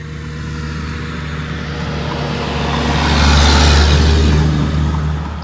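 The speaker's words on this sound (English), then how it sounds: "big trucks making lots of noise" Big trucks pass on a road in rural backwoods Wisconsin, a rising engine and tire roar that swells to a loud close peak and then begins to fade, with no talk.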